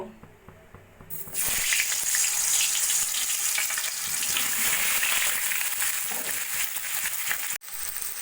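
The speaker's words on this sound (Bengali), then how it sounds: "তেলটা গরম হয়ে গেছে প্রথমে আমি আলুগুলো ভেজে নেব" Loud, steady sizzling of potatoes frying in hot oil starts abruptly after a quiet second and continues close by, with a brief cut near the end.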